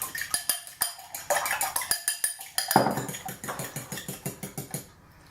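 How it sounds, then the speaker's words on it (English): An egg is whisked briskly in a small bowl, giving a rapid run of clinking, tapping strokes against the sides that stops after about five seconds. "Give that a whisk."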